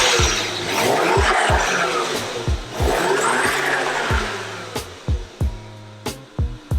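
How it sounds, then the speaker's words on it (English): A twin-turbo 1JZ engine idles and revs before a down-pipe swap, with a steady rumbling idle broken by a series of sharp throttle blips that rise and drop back, growing punchier toward the end. "We'll do a before sound clip, see what the car sounds like"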